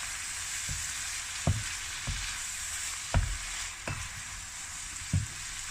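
A vegetable stir fry with a Chinese-inspired sauce sizzles steadily in a pan, with a constant frying hiss and periodic soft knocks from stirring, close by, with nobody speaking.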